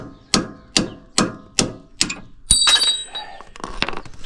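Five evenly spaced, sharp hammer whacks ring out against a Range Rover L322 lower arm, then a heavier metallic strike followed by clattering and scraping as the part shifts loose.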